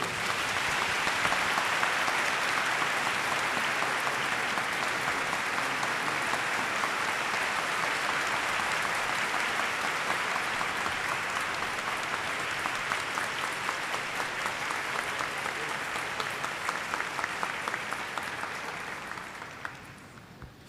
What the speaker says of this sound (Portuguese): não um caloroso aplauso, mas um maravilhoso aplauso